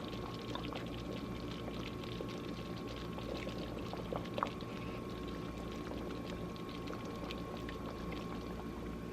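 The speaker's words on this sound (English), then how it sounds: "I'm going to add the milk in right now." Milk pours into a simmering beef pot pie filling in a pot, a steady liquid gurgle and bubbling close by with faint clinks.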